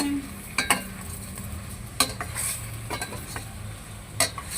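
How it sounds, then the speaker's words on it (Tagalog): Chicken adobo simmers in coconut milk in a pot and is stirred with a utensil, giving soft scraping strokes and occasional clinks against the pot over a faint continuous bubbling sizzle. "Halu-haluin natin mga langga."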